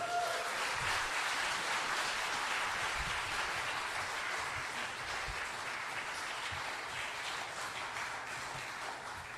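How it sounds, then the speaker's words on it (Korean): A church general assembly audience applauds a candidate for moderator at a candidates' public hearing, a long, even roar of many hands clapping in a large room that slowly tapers off. "여러분 나오실 때 격려와 응원의 박수 부탁드립니다."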